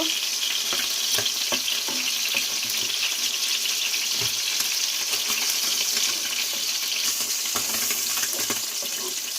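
Fish frying in oil in a pan, a continuous close sizzle with scattered pops and crackles running steadily throughout, no voices.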